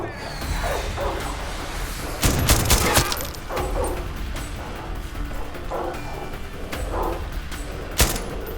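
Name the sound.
gunfire from an enemy in the video game Far Cry 6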